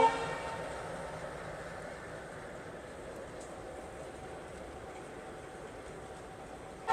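An ALCO WDM3A diesel locomotive hauling the Nagaland Express rumbles steadily with a low, continuous drone and rail noise, sounding as if heard from within the train, with no talking.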